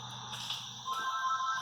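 A phone rings with an incoming call inside a quiet room, its repeating electronic ringtone clear and fairly close, rising in level during the second half with no talking.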